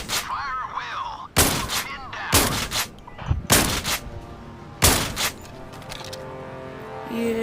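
Shotgun blasts in a video game, about five or six sharp, loud booming shots spaced a second or so apart, with low game sounds and some voice in between.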